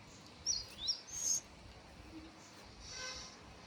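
Three thin, high-pitched chirps from small sparrow chicks come in quick succession, followed by a quiet stretch with a faint hiss.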